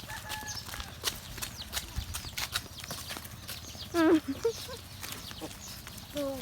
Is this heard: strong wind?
no